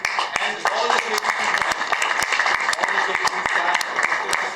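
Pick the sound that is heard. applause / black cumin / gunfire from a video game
applause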